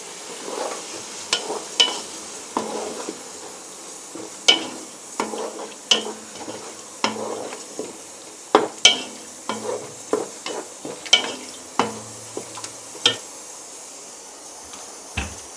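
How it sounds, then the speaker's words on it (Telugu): Yogurt, 500 grams, going into a pan of jackfruit biryani gravy and stirred, with repeated scraping and clinking strokes over a soft sizzle, close and moderately loud, no talking. "ఇప్పుడు ఒక 500 గ్రామ్స్ పెరుగు వేస్తున్నా."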